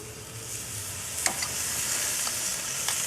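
A steak is laid onto the hot grate of a Char-Griller Akorn kamado grill, giving off a steady, broad sizzle with a brief clank and a few faint crackles, heard alone at moderate loudness.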